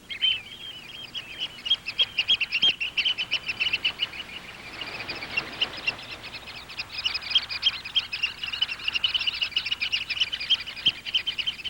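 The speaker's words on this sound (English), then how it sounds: "the most conspicuous are the oyster catchers" Oystercatchers calling at low tide over exposed mussel beds, a dense, continuous chorus of shrill piping calls, loud and close, rising and overlapping into an excited squabbling clamour with no speech.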